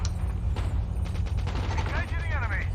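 Rapid gunfire from the mobile video game Call of Duty Mobile rattles steadily over a constant game background, with a voice talking over it.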